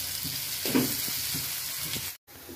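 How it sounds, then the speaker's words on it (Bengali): Sliced onions crackle in a pan as they brown and are stirred, a close, continuous sizzle with a few soft scrapes and a brief cut near the end. "পেঁয়াজটা হালকা ব্রাউন কালার হয়ে গেছে, প্রায় ভাজা ভাজা হয়ে গেছে।"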